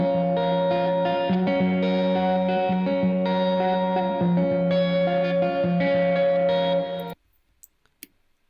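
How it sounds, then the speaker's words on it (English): Lead electric guitar with chorus, distortion and echo effects plays a sustained, shimmering melodic line for about seven seconds, then cuts off abruptly to near silence with a couple of faint clicks. "So then there's this lead guitar that Jacob had to record"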